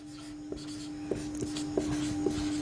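A pen or chalk writes out a maths solution, giving soft scratching strokes with several small tapping accents at irregular intervals over a steady background hum, quiet and close.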